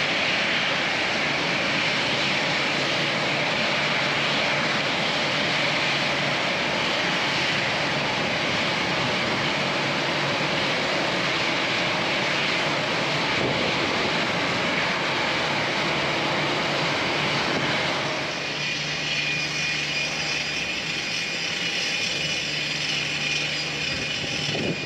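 Jet engines of a Condor Boeing 757 airliner roar steadily and loudly for most of the stretch, a broad continuous rush that eases slightly and turns more tonal toward the end, with no talking.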